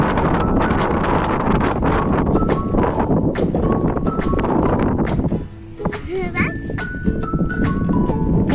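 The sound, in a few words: strong wind in a park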